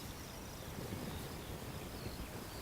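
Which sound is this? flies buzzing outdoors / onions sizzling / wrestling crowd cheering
flies buzzing outdoors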